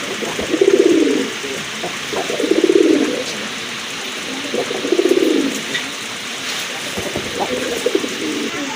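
Pigeons coo close by in four rolling bursts about two seconds apart, each a soft throaty warble, over a quiet background.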